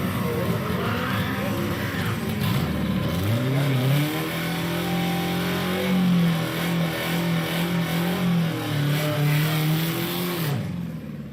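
A car engine idles and then revs up and down repeatedly, a steady low rumble rising and falling in pitch, fairly close by.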